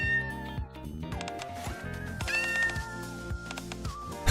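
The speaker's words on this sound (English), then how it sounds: "A cat brushes up against Marciana's leg." A cat meows in Goddess of Victory: Nikke, brushing against a character's leg, its short cries set against busy game music with steady rhythmic beats.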